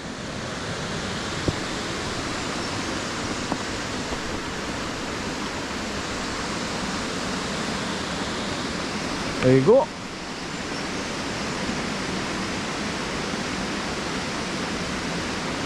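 A waterfall pours down and splashes white off the bottom rocks, a loud, unbroken broadband roar close by, with a brief spoken remark near the middle.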